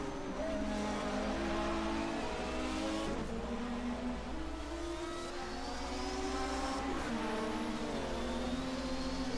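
Race cars, among them a Porsche, at the Norisring street circuit in a 1980 DRM Division 2 round, engines roaring and shifting pitch as they rev and pass, loud and continuous.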